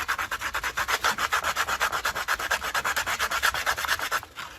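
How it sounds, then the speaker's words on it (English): Sandpaper rubs back and forth over a soft resin model part in quick, even strokes, a close, regular scratchy rasping that repeats roughly twenty times before easing off. "And then with the sandpaper, I'm going to come in like so"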